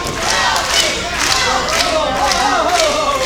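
A wrestling crowd at a PCW Limelight show claps and chants together for a wrestler named Milfy, a dense, steady roar of many voices and hands that stays loud throughout with rhythmic chanting rising above it.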